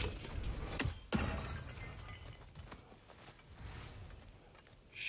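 Magic runes shattering in God of War Ragnarok, heard as a sharp breaking crash near the start followed by a second burst, then scattered glassy debris and ambient rumble fading out.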